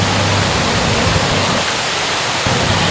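Broadband, steady rush of the Duwili waterfall in Sri Lanka, its water falling like fine dust, heard close and loud without pause, with no voices.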